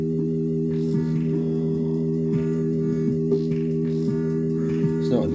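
A pocket operator and a small digital synth play together through a Tascam 488 mixer, making a loose, atonal layer of sustained tones over steady low drones, with sparse plucky accents repeating throughout and no talk.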